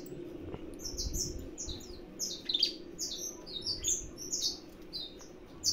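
Several saffron finches (canário da terra) loose in a breeding aviary, singing with repeated bright chirps and short trilled phrases from birds close by over a low background hum.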